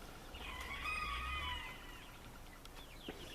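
Flock of Orloff chickens: a rooster's drawn-out crow rises over low background hum, followed by scattered faint clucks and chirps, moderately distant.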